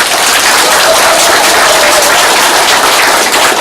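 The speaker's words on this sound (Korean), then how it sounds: "한번 박수를 보내주세요" A crowd at a campaign office opening for a provincial council candidate breaks into dense, loud applause, a continuous close roar of many hands clapping from start to finish.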